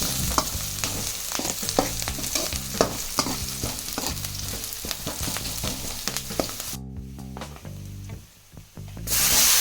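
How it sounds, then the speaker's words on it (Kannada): Ginger, garlic, onion and green chilli roasting in a pan for veg fried rice, with steady close sizzling and repeated stirring scrapes throughout, dropping briefly quieter near the end before a louder hiss returns. "ಶುಂಠಿ ಬೆಳ್ಳುಳ್ಳಿ ಈರುಳ್ಳಿ ಹಸಿರು ಮೆಣಸಿನ್ಕಾಯಿ ಎಲ್ಲ ಹಾಕಿ ಸ್ವಲ್ಪ ರೋಸ್ಟ್ ಮಾಡ್ಕೊತಾ ಇದ್ದೀನಿ"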